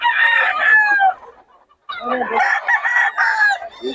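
A 10-month-old gamefowl rooster crows loudly and close, two long strained calls separated by a brief pause.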